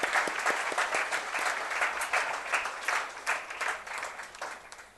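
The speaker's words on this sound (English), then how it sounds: "a very, very big hand of applause to the entire school management" Sustained crowd applause at a PGDM convocation ceremony honouring the school management, thick steady clapping from a large audience with slight pulsing swells, fairly close and even in level.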